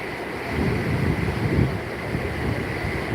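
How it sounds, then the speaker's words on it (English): Wind gusting beside a creek in a park, blowing water spray and mist; a steady, broad rushing roar with mild swells, close to the microphone and without voices. "The wind's blowing by. So when it blows by, it blows this mist over here"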